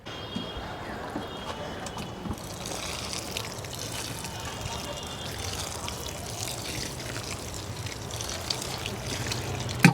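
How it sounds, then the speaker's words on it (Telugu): Water poured steadily over an apple plant in a pot after repotting, a continuous soft trickle and splash of liquid draining through the soil, close and moderately quiet, with no voices. "చక్కగా పోస్తాను, కిందకి కారిపోతాయి."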